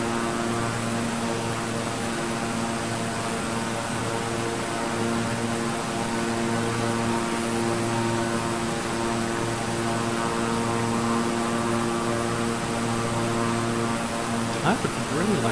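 Beechcraft 350i King Air twin-turboprop in Microsoft Flight Simulator, a steady, loud propeller drone with a constant engine tone throughout, the hum unbroken and close.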